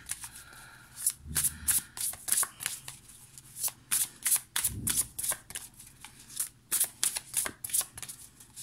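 A Beautiful Creature Tarot card deck is shuffled repeatedly by hand in close, crisp riffling bursts with short pauses between them and no talking.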